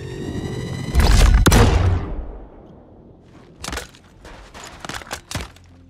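Missile launches from a ship in the space game Star Citizen: one loud, sustained roaring burst that fades slowly, followed by several short, sharp cracks further off.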